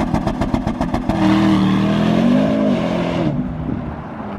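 A Porsche Panamera GTS engine revs and pulls hard while driving along a straight, slippery, snow-covered road, with a loud, steady rising drone that eases off near the end.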